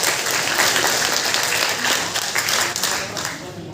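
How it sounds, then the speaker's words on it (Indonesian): Audience applause at the closing of a provincial mother-tongue language and literature learning festival in South Sulawesi, a dense, steady roar of clapping sustained throughout with voices mixed beneath. "Beri tepuk tangan yang meriah untuk kita semua"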